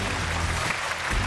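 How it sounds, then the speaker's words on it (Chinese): A studio audience on a Chinese televised relationship show claps loudly and steadily for just over a second, with no voices over it. "掌声有请这一队，有请。"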